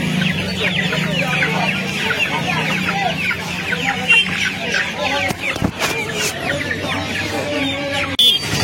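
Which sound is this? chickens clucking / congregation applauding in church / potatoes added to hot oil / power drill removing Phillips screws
chickens clucking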